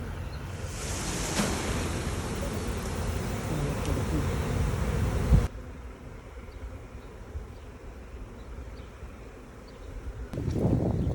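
A honeybee swarm buzzing after being shaken into a box, a dense and steady drone that is loud at first, then drops to a softer hum before a brief rustle near the end.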